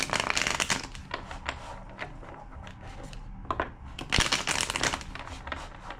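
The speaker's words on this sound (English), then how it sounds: "2 more shuffles." Loud, close tarot card shuffling in bursts of rapid riffling and flapping, pausing briefly midway before another vigorous round; no talking.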